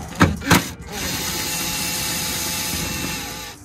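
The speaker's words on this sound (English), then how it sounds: "there is that one more bolt. Let's get that out." Power tool whirs steadily as a bolt is backed out of the window regulator bracket on a 2003 Chevy Tahoe's rear passenger door, after two short sharp knocks, continuing close and loud to the end.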